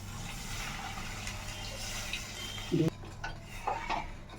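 Khoa with milk and ghee being stirred in a pan over low flame, a soft bubbling simmer with spoon clinks and scrapes against the metal near the end.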